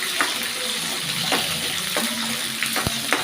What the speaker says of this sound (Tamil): இப்போ சின்ன வெங்காயம் பூண்டு பூண்டு நல்லா எண்ணெயிலே வணக்கிடுங்க